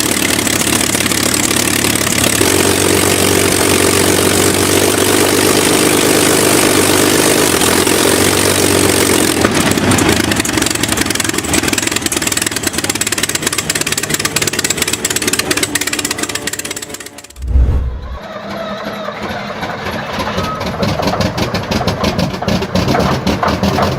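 A Liberty L12 engine runs after a hand-cranked cold start, a loud, rough, continuous mechanical roar that shifts in tone partway through and then carries on steadily. There is a brief deep thump and dip in the middle.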